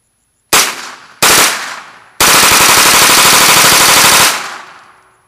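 A 9mm AR-15 carbine fitted with a Slidefire stock and firing 9mm NATO rounds: two loud single shots, then a sustained rapid bump-fire burst of about two seconds, close and alone with no talk.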